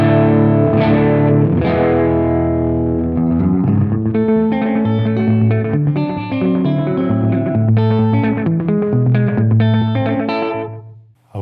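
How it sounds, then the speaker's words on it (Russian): A rock-and-roll or rockabilly electric guitar played through a slapback echo, with a short, quick repeat trailing each note. A steady, loud melodic passage of picked notes and chords plays alone with no talking. "самым удачным считается так называемый слэп-бэк – одно или несколько коротких быстрых повторений."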